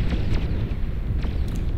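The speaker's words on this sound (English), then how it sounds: "so many of those grunts explode in the chain reaction from that starlight there" Grunt units blow up in a chain reaction in the strategy game Beyond All Reason, a dense rumbling roar of overlapping explosions with several sharp bursts, loud and continuous.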